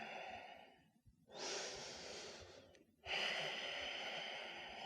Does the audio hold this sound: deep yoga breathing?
yes